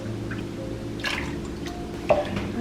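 Two cups of milk poured into a cooking pot while making a cheesy, creamy high-protein recipe, giving a soft liquid splash and trickle that is close but quiet, with no one talking.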